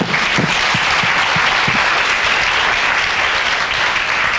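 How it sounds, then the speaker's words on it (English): An audience at a Leadership Paducah 35th anniversary celebration gives a speaker a sustained round of applause, dense steady clapping filling the room from start to finish. "So how about a round of applause for Sandra?"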